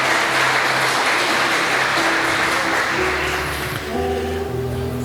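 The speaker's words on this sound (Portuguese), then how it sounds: "Você pode dar uma salva de palmas para o Senhor?" Church congregation clapping for the Lord during a Portuguese-language sermon, a dense, steady applause filling the room while sustained musical tones rise underneath, likely from a keyboard.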